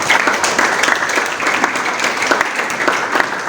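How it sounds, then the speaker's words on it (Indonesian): A church congregation at a Sunday worship service at a theological college claps loudly and continuously, a dense, close wash of applause throughout. "Tepuk tangan sekali lagi."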